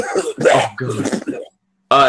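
A voice actor imitates a character's fungal cough, a run of rough, throaty coughs and guttural clearing bursts, close and loud, then a short silence before another harsh burst.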